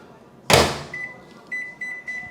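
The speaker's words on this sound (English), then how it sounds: "Microwave, 2 minutes" A microwave oven door thumps shut, then the control panel gives a series of short electronic beeps, five or so quick tones spaced out after the clunk, close and clear.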